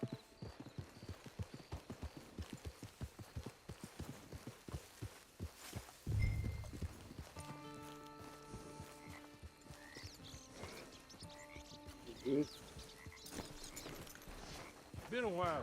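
Horse hooves in the video game Red Dead Redemption 2: a steady, close clip-clop of walking hooves for several seconds, then fainter under sustained musical tones with occasional voices.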